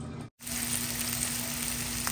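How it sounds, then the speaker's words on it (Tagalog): Garlic, onion and ginger sizzle in a hot pan while being sautéed for a mung bean stew. A loud, steady frying hiss runs throughout, with one brief silent gap near the start. "Una ko pong ginisa ang ating bawang. Sinunod ko po ang ating sibuyas at ang ating luya."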